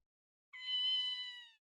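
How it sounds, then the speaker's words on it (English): A cartoonish cat meow from the Ghost Trick: Phantom Detective video game, a single drawn-out call of about one second, clear and alone against silence. "Meow, meow, meow, meow."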